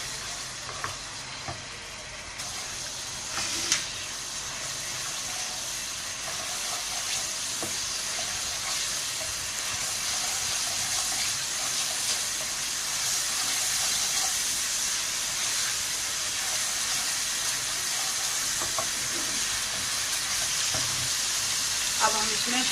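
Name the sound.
ginger garlic paste sizzling in hot ghee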